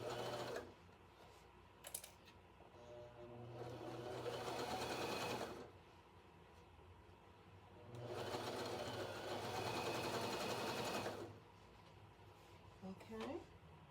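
A sewing machine stitches added fabric along the edge of an up-cycled shirt in two separate bursts of steady, rapid whirring, with quieter pauses between them and a person talking now and then.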